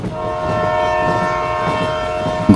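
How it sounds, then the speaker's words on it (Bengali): A train entering a station and slowing sounds its horn in one long, steady, loud blast over the rolling rumble of the wheels. "ট্রেনটা স্টেশনে ঢুকে গতি কমাতে শুরু করলো"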